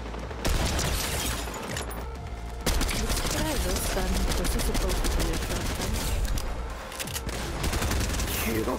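Video game firefight with a shotgun among the weapons, dense rapid gunfire crackling almost continuously at close range, with brief pauses and loud bursts, under faint background chatter.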